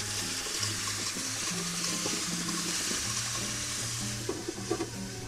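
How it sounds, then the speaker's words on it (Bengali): Potatoes frying in a pan, a steady broadband sizzle with occasional stirring scrapes and clinks, close and continuous with no talking. "এখন আলুটাকে ভালো করে ভেজে নিব যাতে সেদ্ধ হয়ে যায়।"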